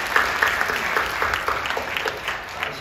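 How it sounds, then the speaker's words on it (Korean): A church congregation at a New Year revival service claps steadily, a warm, dense applause that holds at an even level throughout. "우리 박수로 격려해 주시죠"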